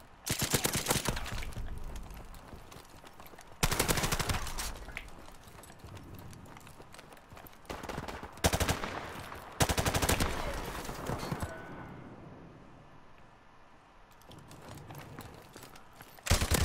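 Video game gunfire comes in loud, sharp bursts and rapid volleys that stop and start over quieter gaps, with no one talking.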